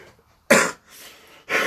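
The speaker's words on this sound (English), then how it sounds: "So sorry for coughing in your face." Two sharp, close coughs separated by a brief pause, with a softer breathy sound between them.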